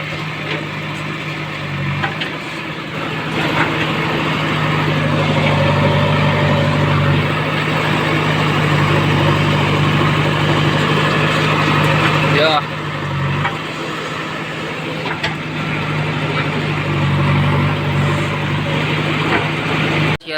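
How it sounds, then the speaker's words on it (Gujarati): A tractor engine runs steadily with a low, constant drone through the whole stretch while it is being loaded, with farmyard knocks and faint voices mixed in around it. "ટ્રેક્ટર ભરાવવું ચાલુ થયું."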